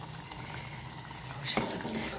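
Cooked dal (varan) with salt added bubbles and sizzles over a high gas flame, a steady close boil with one brief louder splutter near the end.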